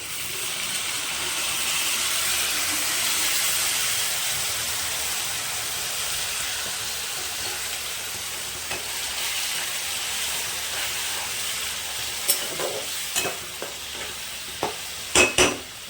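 Spice paste with a splash of water sautéing in a pan for mung dal and papaya ghonto, giving a steady close sizzle and hiss with soft stirring, then a few sharp spoon knocks near the end; no voices.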